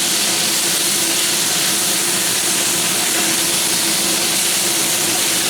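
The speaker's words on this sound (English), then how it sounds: "you have to keep on stirring this because it's in a wok" Pork cubes and orange bell pepper stir-frying in a wok, giving a steady, loud, continuous sizzle and hiss that holds without a break throughout.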